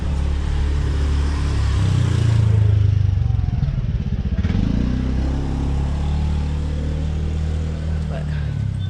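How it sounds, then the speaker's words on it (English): A motorbike passing in Bali during drizzle, its engine rumbling loud and close over steady traffic noise, rising and fading after a few seconds, with people talking over it. "Motorbike."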